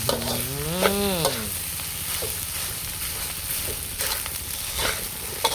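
Field rat in spicy curry paste stir-fried dry in a pan, steady sizzle with scraping stirs throughout, close and moderately loud, with a brief low moo-like sound near the start.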